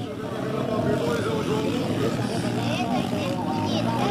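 An imported KTM motocross bike at a junior motocross event: its engine drones steadily and loudly throughout, with people talking over it.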